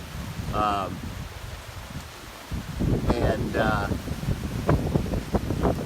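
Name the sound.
wind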